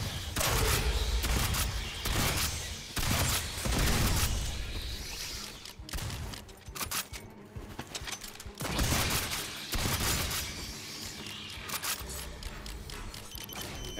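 Bursts of gunfire in the shooter game Aliens Fireteam Elite, loud rapid volleys that start and stop in clusters with short gaps between them, with no talking.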